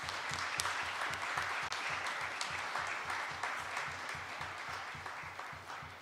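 An audience applauds students after they sang at a formal international event; steady, dense clapping fills the whole stretch, loud and continuous with no talk over it.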